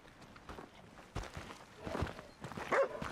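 A dog in the video game Red Dead Redemption 2 gives a few short, soft barks and yips amid light footsteps, fairly quiet and scattered over a few seconds.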